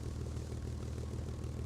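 A propeller plane in War Thunder drones with a steady low engine roar and buzzing prop throb, constant and close, with no talk.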